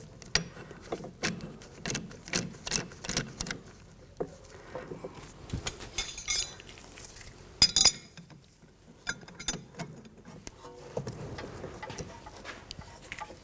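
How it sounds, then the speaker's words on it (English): A caliper compressing tool turns and pushes a rear brake piston back in on a 2010-2014 Volkswagen GTI, producing scattered quiet metallic clicks and ratcheting clinks in irregular bursts, fairly close and soft. "take a caliper compressing tool like this that's going to turn the piston in as you compress it."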